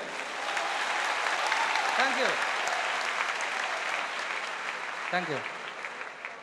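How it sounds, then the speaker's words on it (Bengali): Audience applause at a company training session, steady clapping from a room full of people running the whole stretch while someone says a few brief words over it. "তার জন্য একটা হাততালি দেই"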